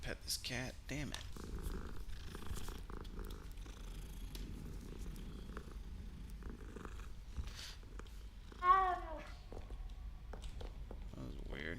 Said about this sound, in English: I didn't want to pet this cat, damn it.